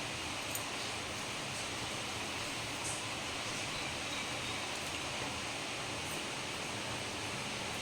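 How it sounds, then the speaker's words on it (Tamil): Hot water pours steadily into a South Indian filter coffee maker for a Sunday brew. The hiss is loud, continuous and even, with no talking. "இப்போது ஹாட் வாட்ரு நான் இதில் வந்து வச்சுருக்கேன், ஊற்றிக்கலாம்"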